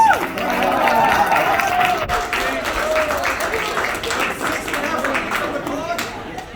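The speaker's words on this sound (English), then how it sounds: "Nice big round of applause." Audience applause fills the room as a steady wash of many hands clapping, loud and continuous, with a voice speaking over the start.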